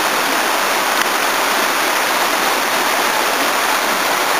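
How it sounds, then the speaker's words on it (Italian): Massacorbi waterfall on the Vagnolo stream near Montemurlo, Prato, heard from above as a steady, loud, unbroken rush of falling water with no voices. "Vedi una delle cascate dall'alto."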